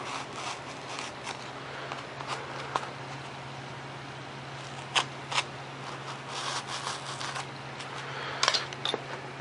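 A blade slices through foam board to cut out aileron parts for a Super Cub model plane, giving faint rasping scrapes with a few sharper cutting strokes against a low steady hum.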